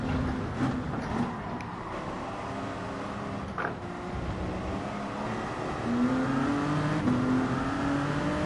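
Race car engines from the Gran Turismo 7 video game drone steadily at high speed, with gliding pitch changes as the cars accelerate and shift, loud and continuous with no talk over it.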